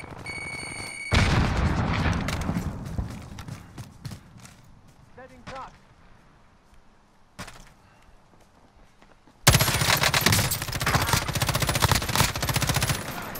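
Call of Duty: Modern Warfare battle royale gunfire and a frag grenade blast, with bursts of rapid shots, a sharp boom near the middle and a loud dense barrage in the last few seconds, a voice speaking over parts.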